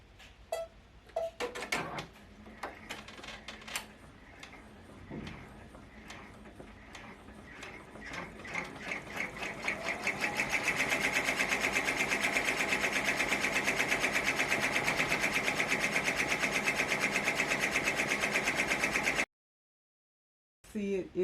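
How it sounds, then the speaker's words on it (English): Sewing machine stitching along the spine of a fabric composition-book cover in purple thread, a steady rapid mechanical whir that starts in short bursts and settles into a loud, continuous run before stopping. "then it's going to do the stitching in the spine"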